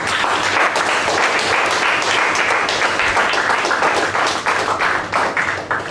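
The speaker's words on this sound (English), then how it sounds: "With all your applause, let's welcome Toastmaster Arjun on stage" Loud, dense applause fills a Toastmasters meeting room as a speaker is welcomed on stage, a steady wash of many hands clapping that starts to thin in the last second.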